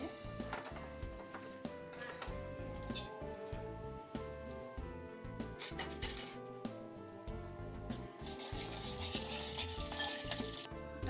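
Cumin and fenugreek seeds sizzle steadily in hot oil in a pan, with occasional light clinks of a utensil against the pan.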